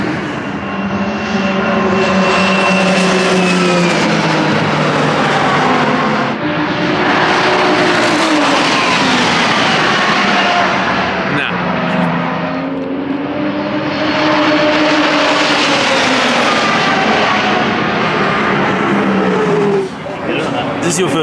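A Mitsubishi Evo 6 time attack car droning loudly and continuously on track, its engine note rising and falling in long sweeps as it pulls through gears, with cabin rumble throughout.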